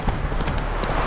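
Horse hooves clip-clop in The Witcher 3 at a steady, quick rhythm, fairly loud and close, against a dense background of in-game ambience.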